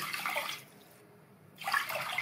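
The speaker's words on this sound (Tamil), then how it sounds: "அரிசி எடுத்த கப்பில் ஆறு கப் தண்ணி" Water pours into a pot of rice and toor dal for sambar rice, a splashing stream that pauses briefly midway and then resumes, close and moderately loud.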